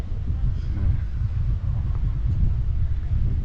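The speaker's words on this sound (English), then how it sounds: "Very breezy today." Breezy wind gusting across the microphone on a seafront walk in Palmanova, Majorca, a steady low rumbling buffet that swells and dips throughout.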